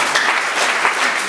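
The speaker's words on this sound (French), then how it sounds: "des acclamations pour le menuisier." Crowd applause at a stand-up comedy show in Uvira, a brief continuous burst of many hands clapping at once, loud and steady throughout.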